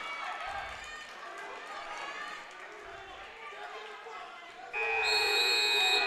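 A referee blows a sharp, loud whistle near the end of a high school wrestling dual meet, after a stretch of crowd noise and a commentator's voice.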